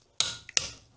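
Two sharp, close clicks from a torque wrench reaching 80 pounds on a lug nut of a 1997 Honda Civic hatchback, separated by a tiny tick, then quiet.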